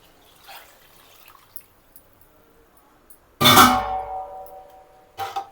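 Water for chicken biryani is poured from a vessel into the cooking pot: a sudden loud splash and gush that tapers off over about two seconds, with a second short pour shortly after and quiet kitchen sounds before it.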